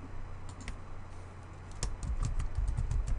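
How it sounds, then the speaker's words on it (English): A date is typed on a computer keyboard, with scattered key clicks that become a quicker run of taps near the end, quiet over a steady low hum and no voices. "you can enter in a date by typing in the day of the month"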